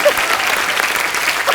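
Studio audience applause on a talk show, a dense, steady wash of many hands clapping at once, sustained and moderately loud, with a voice briefly present under it.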